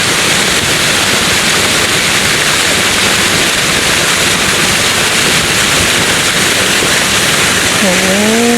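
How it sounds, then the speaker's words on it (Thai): An artificial waterfall at Wat Pa Lelai temple in Laos pours in a loud, steady, dense rushing roar filling the whole clip, with a brief sliding tone near the end. "เสียงน้ำตกแบบว่าสุดยอดเลย"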